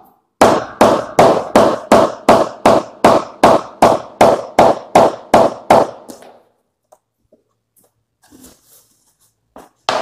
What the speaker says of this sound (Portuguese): pegar o martelo de borracha